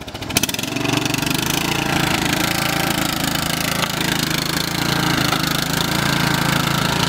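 A riding lawn mower engine runs steadily and loudly up close while driving through mud, with a rough, continuous mechanical drone and rattle throughout.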